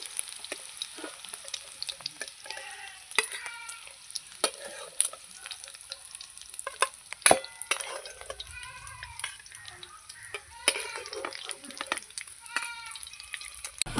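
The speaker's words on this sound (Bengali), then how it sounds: "ডিমগুলোকে আমি উল্টে নেবো উল্টে আমি লাল লাল করে ভেজে নেব" Egg barfi pieces sizzle in oil in a kadai while a utensil scrapes and clinks against the pan, with intermittent stirring and turning over a steady frying crackle, close up, no voices.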